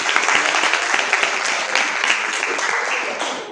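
A classroom of students applauds together, a steady dense wash of clapping that stays loud and even for several seconds with no pauses.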